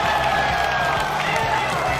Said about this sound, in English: Crowd goes wild, and how could they not?